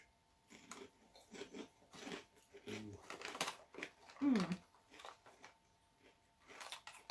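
Crunchy Asian crisp snacks, similar to prawn crackers or Monster Munch, are bitten and chewed in bursts of crackly crunching close to the mic, mixed with talking voices.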